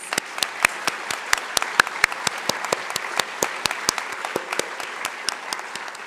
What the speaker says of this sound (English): Please give Aiden a big round of applause